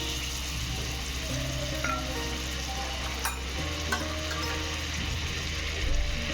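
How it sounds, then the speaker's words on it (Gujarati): Pav bread frying in butter and oil on a hot tava for pav bhaji, giving a steady, continuous sizzle with occasional light scraping and stirring clicks, close and even throughout. "તો હવે આપણે પાવને ફ્રાય કરી લઈએ. તો મેં તવા ઉપર બટર લગાવીશ."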